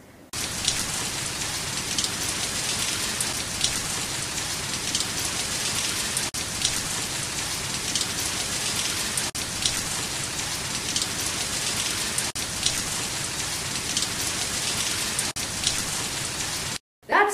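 Steady rain pours down in harsh weather, a dense continuous hiss of drops striking a surface, loud and unbroken for the whole stretch before cutting off abruptly at the end.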